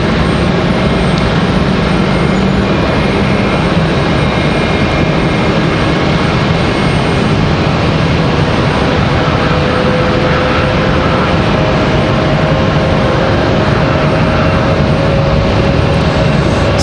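Loud, continuous jet engine roar from JetBlue airliners at Raleigh Durham International airport, a steady broadband rumble filling the whole stretch with no talk over it.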